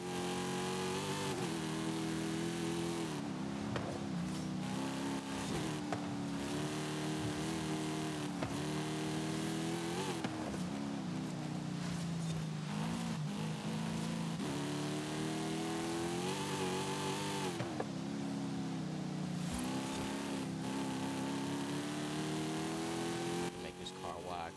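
A 2015 Dodge Challenger SRT Hellcat engine in Forza Horizon 5 roars continuously, rising and falling as the throttle is modulated through repeated revs, loud and sustained throughout.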